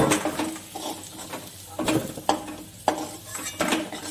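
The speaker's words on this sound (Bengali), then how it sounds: "মাছ ভাজা তেলের মধ্যে আমি আলুগুলোকে দিয়ে নিচ্ছি আলুগুলো লাল করে ভেজে" Potatoes frying in oil left over from frying bhetki fish, with repeated clatter of a utensil stirring and scraping the pan over a low sizzle, close and fairly loud in several bursts.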